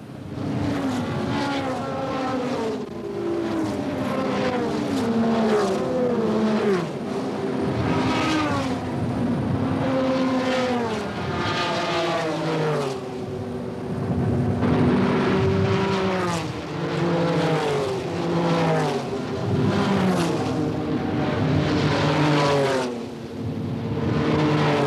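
Race cars at the 1976 Le Mans 24 Hours roar past in a continuous, overlapping stream of engine notes, some rising and falling as they pass, loud and sustained without pause.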